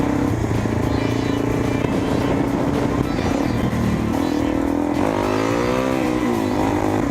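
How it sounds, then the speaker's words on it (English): A supermoto motorcycle engine revs loud and close for a wheelie, its tone rising and falling in bursts through the clip. "You gonna chuck a right and give the boys a wheelie?"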